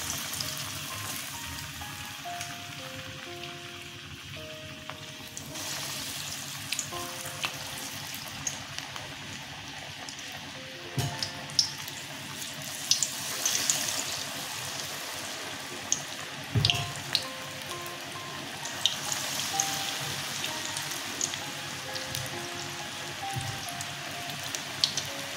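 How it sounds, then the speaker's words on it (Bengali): Pumpkin and duck egg pakoras deep frying in hot refined oil, a steady bubbling crackle with scattered pops, fairly quiet and alone, with faint background tones. "পকোড়াগুলো ভাজা হয়ে গেছে, আমি তুলে নিচ্ছি।"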